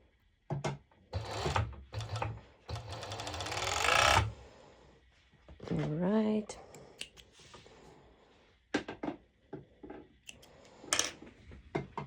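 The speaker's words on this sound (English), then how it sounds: "So I will serge it over here." An overlock serger running a seam on stretchy fabric for pole dance bottoms, a rapid quiet chatter lasting a few seconds, followed by softer handling sounds and a faint voice.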